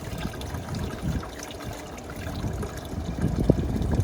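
Water trickling and dribbling out of a boat's air-conditioning drain as it is cleaned with a big straw cleaner, a soft irregular liquid patter with a few small knocks near the end.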